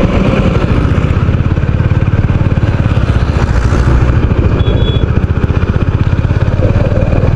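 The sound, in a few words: motorcycle ride along Vizag beach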